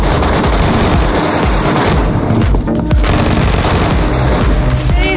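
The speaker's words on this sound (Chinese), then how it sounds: "听到枪声直接过来抓" Loud, dense gunfire from the Metro Royale mode of a video game sounds as rapid bursts and sustained volleys with a brief lull midway, filling the whole stretch.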